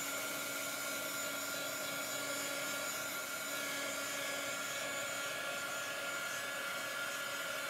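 Hair dryer blowing steadily on wet chalk paste during a Chalk Couture craft project, a continuous close whooshing hum with even loudness throughout and no talking.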